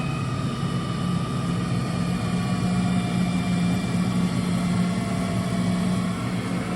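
An IH 1066 tractor's diesel engine runs steadily under PTO dynamometer load with its fuel delivery valve loosened. It gives a loud, constant low drone with a droning hum and no variation or speech.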